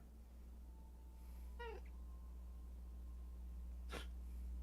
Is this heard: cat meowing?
yes